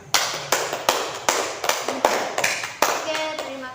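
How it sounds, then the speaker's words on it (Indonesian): A classroom full of students claps after a teaching practice session, a lively burst of scattered hand claps with sharp repeated peaks, fairly close and loud. "Beri aplaus untuk hari ini."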